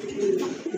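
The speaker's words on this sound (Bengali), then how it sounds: "এক জোড়া লোটন কবুতর" A pair of Indian Lotan pigeons cooing close by, one short throaty coo rolling into another with no voices over it.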